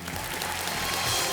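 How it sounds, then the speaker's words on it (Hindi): Studio audience applause on the quiz show Kaun Banega Crorepati, a steady, dense wash of clapping from a large crowd that holds level throughout with no talk over it. "तालियां इनके लिए।"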